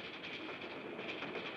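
A train running on rails, a steady faint rumble and hiss of wheels and carriages with no distinct clatter, heard alone without voices.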